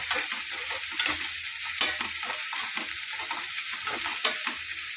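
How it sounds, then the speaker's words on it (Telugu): Onions frying in oil in a pan as a fish curry is prepared, with a steady bright sizzle and repeated scraping stirs throughout, close and fairly loud, no voices. "ఇవి ఉల్లిగడ్డలు వేసుకోవాలి ఆనియన్స్ నూనెల బాగా ఎంచుకోవాలి"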